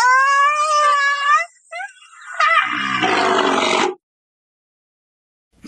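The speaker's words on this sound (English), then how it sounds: "Rhinoceros." A rhinoceros calls loud and close, starting with a high, wavering squeal, then a short break, then a rough, breathy snort-like blast that cuts off into silence.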